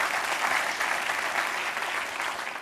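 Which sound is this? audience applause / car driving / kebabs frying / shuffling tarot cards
audience applause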